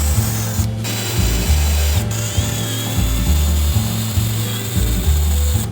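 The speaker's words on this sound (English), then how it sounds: "We'll need to use a step drill bit" A power drill with a step drill bit whirs in repeated short pulses through a cardboard PC case, its motor pitch rising and dipping as it bites in, close and steady.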